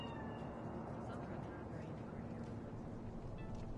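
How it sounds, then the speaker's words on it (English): A cat meows in Cyberpunk 2077, its faint cries sitting over a steady, dense bed of game ambience and low hum. "Chill. It's just a cat."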